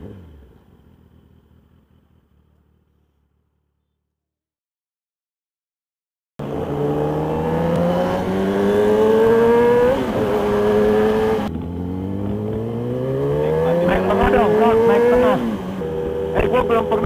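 A Kawasaki ZX-10R Anniversary Edition motorcycle engine revs loudly and close by after a quiet start, climbing in pitch through two strong throttle pulls, with a sputtering edge near the end.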